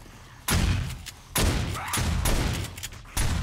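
Shotgun turrets in the video game 7 Days to Die fire during a zombie horde night, each blast a heavy, booming shot with a long decaying tail, four loud, evenly spaced reports close by.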